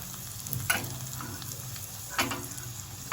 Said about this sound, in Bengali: আমি রসুন গোটা জিরে ভেজে নিচ্ছি।